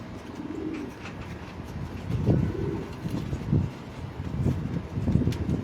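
Pigeons coo at an open loft on a morning in September, low throaty calls rolling one after another, fairly close and steady, with soft wind and faint chirps around them.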